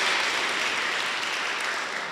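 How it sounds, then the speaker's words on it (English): Short wash of audience applause at a Rotary club meeting, a steady, moderately loud spread of clapping for about two seconds. "Let's give them a big round of applause."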